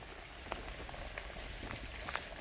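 Heavy rain during a thunderstorm in the countryside, a faint steady hiss with scattered drops and small splashes, distant and low in level.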